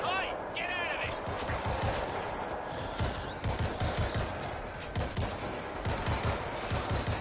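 Rapid gunfire in the World War Z video game, bursts of overlapping shots rattling through a dense, loud battle soundscape, with voices talking over the shooting.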